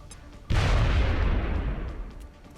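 AP grenade exploding in a video game, one loud sudden boom followed by a long rumbling decay that fades over about two seconds, with no talking.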